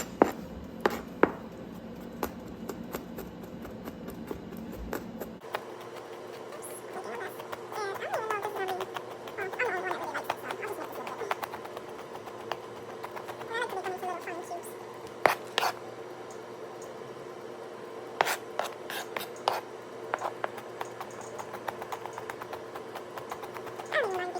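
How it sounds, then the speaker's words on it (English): Garlic minced with a knife for a homemade pho: a quiet, steady run of quick light chopping taps, sometimes clustered and sometimes spaced out, with no talking. "So, I'm just mincing all of my garlic."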